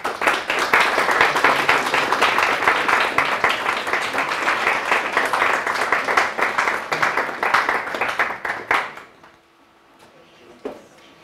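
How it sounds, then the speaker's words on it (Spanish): A lecture audience claps loudly and steadily for about nine seconds, then the applause fades quickly into a quiet room where a few faint sounds remain. "Acaban de despertar ahorita con los aplausos"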